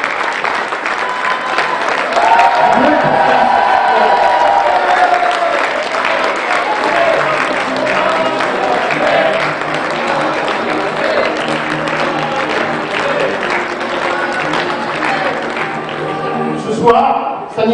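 A crowd at a Reconquête political rally in Mayenne applauds loudly and continuously for about sixteen seconds, dense clapping with some cheering, before it tapers off and a voice begins over the dying claps.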